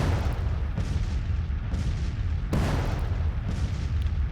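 Artillery bombardment rumbles in the Civil War strategy game Grand Tactician, a dense wash of low, distant booms rolling continuously with a few sharper blasts standing out.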